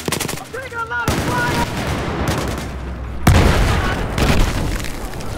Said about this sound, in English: There's an enemy machine gunner just west of where you are.